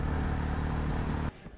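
A rented motorcycle ridden around Darjeeling, picked up near Ashighar More in New Jalpaiguri, gives a steady, close engine drone that cuts off abruptly near the end.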